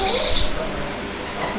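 Exotic birds in a bird shop give a short burst of high, bright chirps and tweets that fade after the first half second, leaving quieter shop ambience.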